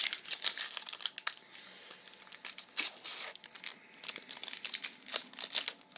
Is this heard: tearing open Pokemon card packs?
yes